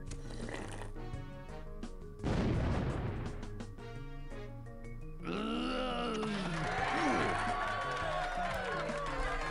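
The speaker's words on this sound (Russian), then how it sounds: "Так, ну и наконец бомбанет, я так понимаю. Петардой." A firecracker goes off in the video game Neighbours from Hell 3, office setting: a sudden loud burst over game music, followed by swooping cartoon sound effects and lively game audio.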